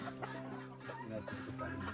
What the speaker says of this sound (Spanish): It's a humongous fucking chicken.